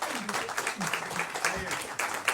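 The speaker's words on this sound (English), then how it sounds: "Let's give them another round of applause." An audience in the Kelly Center applauds after a performance, a fairly soft, continuous patter of many hands with some voices mixed in.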